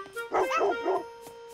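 Cartoon dogs in the video game Bob the Robber 2 give a quick run of three or four yappy barks over a steady electronic music tone, clear and close.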